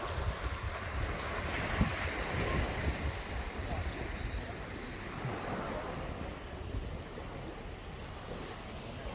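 Sea waves wash and roll continuously on a Martinique beach facing Fort-de-France, mixed with strong wind buffeting the microphone, a broad rushing roar with no clear pauses.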